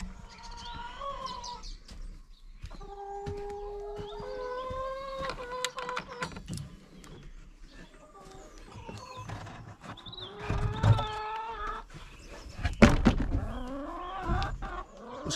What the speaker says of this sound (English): let the chickens out